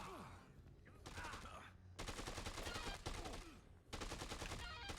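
Bursts of light machine gun fire in the video game Dead Rising 2 come as several rapid, loud volleys separated by short pauses, with echoing game combat sounds in between.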